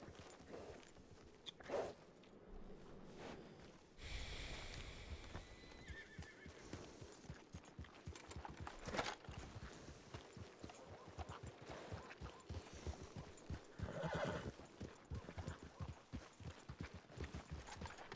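A horse in a Western roleplay video game whinnies a few times and its hooves clip-clop steadily, mid-distance and fairly quiet, with some rustling and footstep-like movement between the calls.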